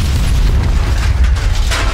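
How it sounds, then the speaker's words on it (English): A grenade detonates in the Call of Duty: Modern Warfare campaign, a sustained loud, low booming explosion with rumbling debris filling the whole two seconds. "Grenade, stand clear!"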